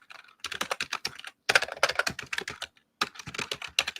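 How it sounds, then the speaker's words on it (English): Fast, bursty typing on a computer keyboard entering a search on YouTube, with clusters of close, crisp key clicks separated by short pauses and no talking. "And I'm going to type in"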